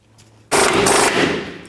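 Air impact gun rattling hard as it spins a nut off a lower control arm bolt on a 1997-04 Dodge Dakota, a loud sustained burst lasting over a second after a quiet lead-in.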